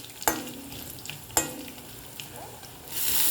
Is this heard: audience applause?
no